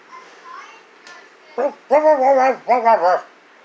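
A bulldog whimpers faintly, then lets out a rapid series of loud, whiny yelps and barks in two short bursts, close by.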